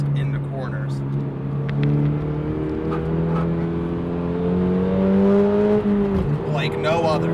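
A 2022 Subaru BRZ engine hums and revs steadily, pitch rising and falling as it accelerates through corners, with people talking over it inside the cabin.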